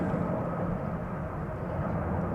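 KLM Boeing 787-10 Dreamliner jet, four years old, at Schiphol Airport, giving a steady, broad low engine roar that holds evenly throughout without voices.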